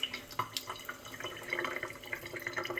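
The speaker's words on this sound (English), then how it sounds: "and just let it drip." Water drips from a tap left running slowly to keep pipes from freezing in cold weather; soft, close, irregular drips and trickling over quiet background.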